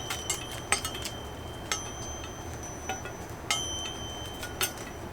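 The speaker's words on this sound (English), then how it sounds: "It's a cute little moose wind chime." A small moose-shaped wind chime rings indoors with scattered bright metallic tings and sustained tones, several light strikes spread across the moment over a steady background hiss, no talking.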